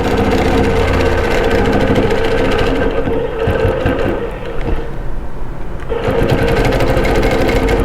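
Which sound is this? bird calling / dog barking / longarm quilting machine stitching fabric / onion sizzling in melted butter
longarm quilting machine stitching fabric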